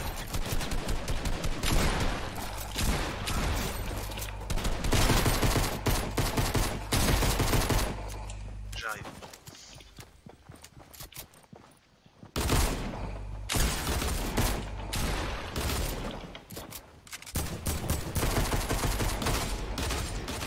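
Rapid gunfire crackles in Far Cry New Dawn, dense bursts of close shots with deep low thumps underneath. The shooting pauses twice, each time for a few seconds, then resumes just as heavy.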